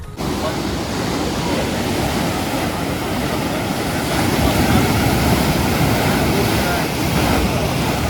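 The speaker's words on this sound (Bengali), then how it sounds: "তবে ঢেউ কিন্তু খুব সুন্দর আছে" Sea waves break and wash continuously on Mandarmani beach on an overcast morning, a broad steady roar with some wind buffeting the microphone and no clear talk.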